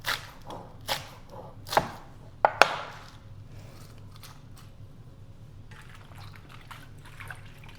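Romaine lettuce chopped for a summer salad, four or five crisp knife strikes on a board in the first few seconds, then quieter rustling and faint handling.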